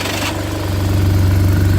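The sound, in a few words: BMW R1200RT motorcycle engine idling with Stand Tune exhaust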